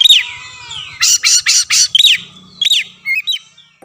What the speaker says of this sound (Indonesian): Nah, burung kacer prank ini paling saya senangi